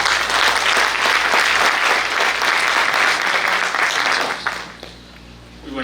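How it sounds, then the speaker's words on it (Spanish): Steady applause from a large crowd at a Catholic social week conference, loud and continuous, fading out near the end. "un fuerte voto de aplausos"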